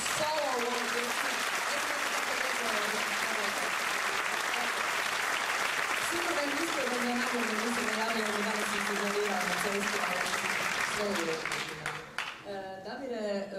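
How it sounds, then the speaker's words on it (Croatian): Audience applause fills a school choir concert hall at Gimnazija Josipa Slavenskog in Čakovec, dense steady clapping running for many seconds before fading, with a voice speaking over it near the end. "molim vas lijepo jedan aplauza, Erika Bračka"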